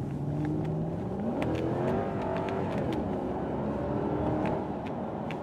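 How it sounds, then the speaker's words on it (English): A 2006 Lexus SC430 Pebble Beach Edition accelerating on a test drive, engine note rising steadily from inside the car with a quick gear shift partway through, continuous and fairly loud with no talking. "we're gonna give it a little acceleration here"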